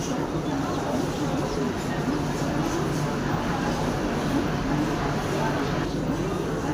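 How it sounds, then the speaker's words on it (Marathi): A crowded Mumbai local train platform, a steady dense murmur of many people under a constant low rumble, with no distinct events, unbroken throughout. "मुंबई लोकल ट्रेनची गर्दी. ही गर्दी फक्त एका ट्रेनचा वेट करत आहे."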